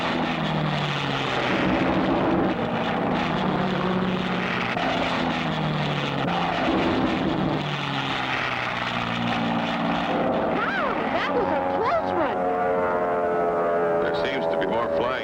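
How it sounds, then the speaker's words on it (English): A cartoon propeller airplane drones steadily as it flies toward a hangar, its engine hum continuous and loud, rising in pitch near the end as it approaches, with someone narrating over it. "He's turning towards us and headed right at the hangar."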